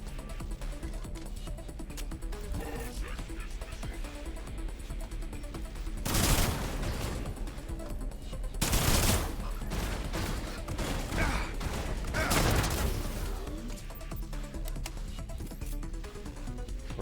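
Gunfire in System Shock (2023), a remake sci-fi shooter: a steady dense background rattle broken by three loud close bursts around the middle, heavy blasts with no talking.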